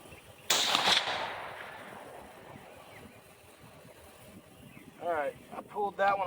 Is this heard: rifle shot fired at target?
yes